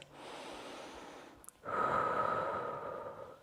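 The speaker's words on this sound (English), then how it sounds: "Now deepen your breath, okay?" Slow, deep breaths during yoga practice, a softer inhale-like rush followed by a fuller, louder exhale with a breathy hiss, close and alone.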